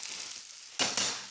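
Shallots and broccoli sizzle and crackle in a hot pan, a steady frying hiss that swells louder near the end as they are stirred.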